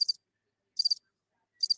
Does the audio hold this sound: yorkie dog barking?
no